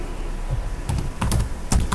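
Typing on a computer keyboard while writing in Word, a handful of close, quick key clicks in short irregular clusters.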